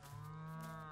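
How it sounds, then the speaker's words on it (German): A cow in the Lego Fortnite video game gives one short, low moo that holds steadily for under a second, clear and alone with no voices. "Mit der Kuh kann ich jetzt gar nichts..."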